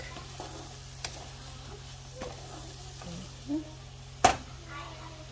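Seasoned vegetables cooking in a pan on a stove at medium heat, a soft steady sizzle with a few sharp clicks and clatters of stirring, no talk.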